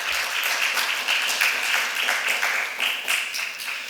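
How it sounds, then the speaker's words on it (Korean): An audience at a church service gives a round of encouraging applause, a steady wash of many hands clapping at moderate loudness, with no talk over it. "우리 친구들 위해서 박수 한번, 응원의 박수"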